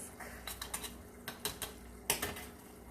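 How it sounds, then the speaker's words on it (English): A whisk rough-stirs caked cocoa powder mixed with powdered sugar in a bowl, giving a quiet run of light, close clicking taps in an irregular rhythm with no voice. "I'm going to go ahead and kind of rough it up with my whisk."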